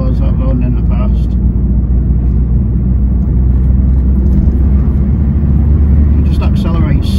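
A 2013 Peugeot 508 SW RXH Hybrid4 estate accelerating from the inside, with a steady, loud low engine and road rumble running continuously while someone talks over it.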